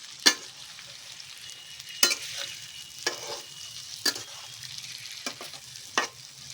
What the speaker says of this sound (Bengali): আমটা হালকা ভাজো।